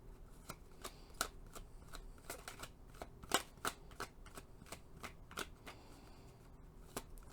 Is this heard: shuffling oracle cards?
yes